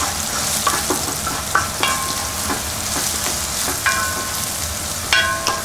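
Crushed coriander mixture sautéing in a pan for hara bhara kebab, a continuous sizzle broken by repeated metallic spatula scrapes and clinks at irregular intervals, close and without speech.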